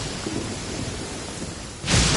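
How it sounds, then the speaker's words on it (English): Steady rain falls over a courtyard in the video game Genshin Impact, a dense even hiss lasting throughout, with a louder rumbling surge near the end that may be thunder. "I love listening to the rain from the courtyard."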